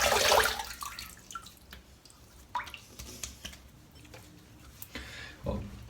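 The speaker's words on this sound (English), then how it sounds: "that was a really big splash of water I gave my face there" Water splashed by hand onto a face during a wet shave, with a loud burst of splashing at the start followed by scattered drips and small wet slaps, then another splash near the end.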